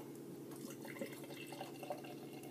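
Fort George three-way IPA, a Modern Times and Holy Mountain collaboration beer, pours into a glass with a soft, continuous liquid hiss and faint splashing, quiet and close, with no voices.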